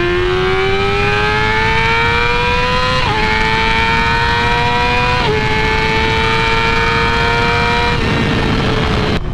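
A 2019 Yamaha R6 600cc sport bike engine screams loudly as it revs high, with three quick upshift breaks interrupting the rising whine, heard alone without any talk.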